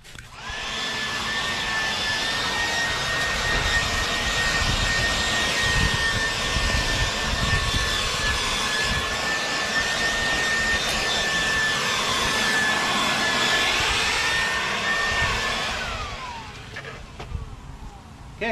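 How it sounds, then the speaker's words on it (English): Dyson machine running just after being plugged in, a loud steady whirring whine held for about fifteen seconds before spinning down, close and without talk. "I just plugged in this Dyson."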